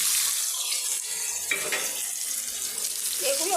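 Bottle gourd and potato pieces go into hot oil already spiced with cumin and fenugreek seeds, giving a steady, loud, hissing sizzle throughout.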